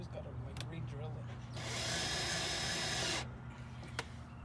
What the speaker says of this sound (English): Just gotta like re-drill it.